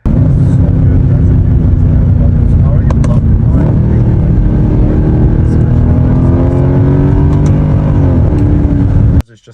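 A Mercedes C63 AMG W204 engine roars loudly and steadily, its pitch climbing as it revs and accelerates, then cuts off abruptly at the end.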